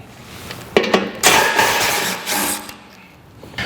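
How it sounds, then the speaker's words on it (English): A power tool with a 15mm socket whirs in several short bursts, spinning out the bolts that hold a factory shield under a Bronco, with brief pauses between runs. "remove the factory shield here in the front by taking out these 4 bolts. We will do that with a 15mm socket."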